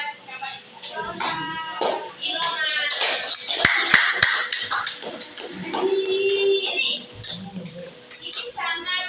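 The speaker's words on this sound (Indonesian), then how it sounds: "tepuk tangan buat siapa ini?" Scattered light clapping rises in an Indonesian classroom during a peer observation lesson, a few sharp claps standing out amid ongoing talk and shuffling from students and teacher.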